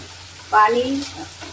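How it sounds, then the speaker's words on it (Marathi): A short burst of sizzling as spice paste hits hot oil in a pressure cooker, loud at first then settling into a softer crackle. "ती पेस्ट आपण आधी कुकरमध्ये छान तेलामध्ये तळून"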